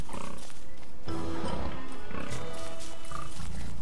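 Pig grunts and snorts in the survival video game Don't Starve, a few short animal calls over a continuous busy game soundscape with music.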